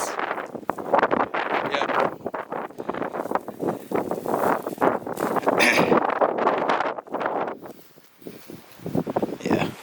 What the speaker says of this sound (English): This wind's intense.